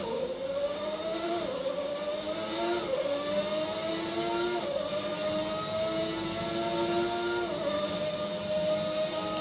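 The engine of Ayrton Senna's 1991 McLaren F1 car screams at high revs in a racing video game, its pitch climbing through each gear with brief drops at upshifts, loud and continuous with no talking.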